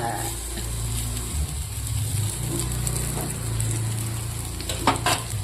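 Bitter gourd slices fry in a hot pan with a steady, dense sizzle throughout, joined near the end by a couple of sharp utensil scrapes and clinks against the pan.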